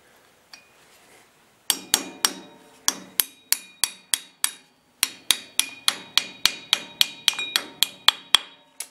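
Metal key tapped into a Willys Jeep rear axle hub with a hammer: a long run of sharp, ringing metallic strikes, close and loud, in an uneven steady rhythm after a short quiet start.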